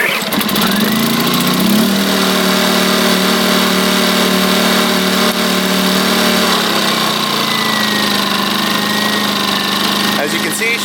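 A Champion 1800 generator engine, about 40 degrees outside, runs loud and steady after a single pull-start, holding a droning hum with a slight pitch dip partway through. Someone talks over it.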